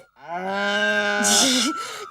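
A buffalo lowing at a dairy home, one long, loud, close moo lasting about two seconds, wavering in pitch toward the end, with no other sounds around it.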